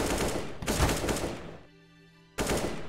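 Rapid bursts of gunfire from the video game CS:GO, two dense loud volleys separated by a brief lull, then a third burst starting abruptly.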